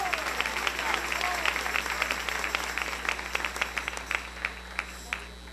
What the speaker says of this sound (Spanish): Dele ese aplauso al Rey en esta preciosa mañana.